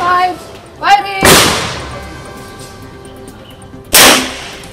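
Two loud, sharp gunshots ring out during an outdoor film shoot, one near the start and another about three seconds later, each with a quick decaying tail; a brief voice sounds just before the first shot.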